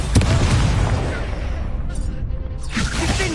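A fiery Confringo curse erupts in Hogwarts Legacy combat, loud booms and whooshing bursts layered in a dense fight mix, with a person talking over the action.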